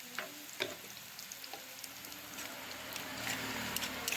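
Spice masala frying in oil in a pan for a Bengali bhola fish curry: a steady, moderately quiet sizzle with scattered crackles and a few stirring clicks, no talk.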